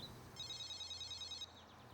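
A telephone rings with a rapid electronic trill that lasts about a second before cutting off. It is faint and set over a low room hum in a TV drama scene.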